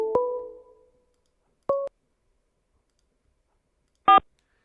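Telephone tones sound at the start of an incoming prison collect call, with a few short, clean beeps separated by silence and growing louder toward the end.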